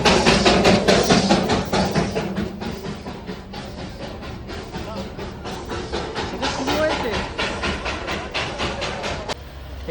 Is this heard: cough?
no